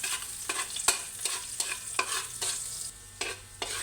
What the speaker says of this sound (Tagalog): mag-saute na tayo ng bawang